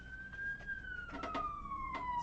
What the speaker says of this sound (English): That sounds like an ambulance that time.